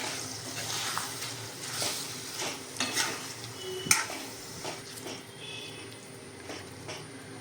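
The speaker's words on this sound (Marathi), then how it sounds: "हे सर्व आपण आता मिक्स करूया" Chicken pieces being stirred together with masala in a pan for Maharashtrian chicken sukka, giving scattered scraping clinks of a spoon against metal and light sizzle throughout, with one sharper clack near the middle.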